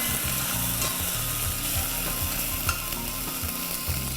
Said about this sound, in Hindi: मिलाते हैं इसमें थोड़ा सा अदरक लहसुन का पेस्ट, इसे भी थोड़ा सा हम भून लेते हैं।